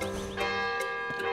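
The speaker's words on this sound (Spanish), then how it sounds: "Tenéis que pillar la otra mano y mover la campana." A bell rung in Zelda: Tears of the Kingdom gives a sustained, ringing metallic tone with a few repeated strikes that swell over the steady hum of the game's background.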